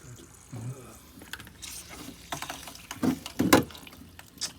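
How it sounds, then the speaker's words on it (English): Water squirts and splashes from a leaking pump line during home remodeling work, coming in irregular wet bursts that grow louder toward the end over a background hum. "just in case so this water doesn't keep splashing up on you"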